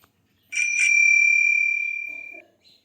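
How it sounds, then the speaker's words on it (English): Bicycle bell giving a double ring, two quick strikes followed by a long, clear metallic ring that fades over nearly two seconds, close and alone apart from a faint voice at the end. "Bicycle."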